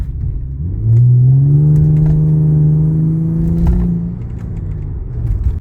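An Infiniti car engine revving under acceleration with about two-thirds throttle, a loud close steady drone that rises and holds for several seconds before easing off, with no talk over it.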